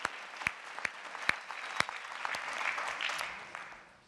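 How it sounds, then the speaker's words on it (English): A comedy-show audience applauds a guest, a few sharp close claps at the start that swell into a fuller, softer wash of crowd applause before tapering off. "Let's have some nice applause for her."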